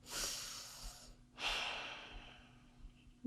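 Two slow, audible breaths during a gentle hand-stretching exercise, each a soft airy inhale-exhale about a second long, close and quiet with a faint steady hum underneath.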